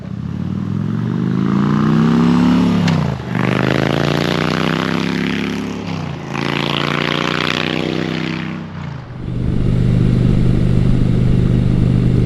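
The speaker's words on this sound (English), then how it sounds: "I am currently riding Honda's 2009 Shadow Spirit 750." Engine of a 2009 Honda Shadow Spirit 750 cruiser motorcycle while riding, a loud close drone that rises in pitch through each gear, drops briefly at three shifts, then settles into a steady rumble.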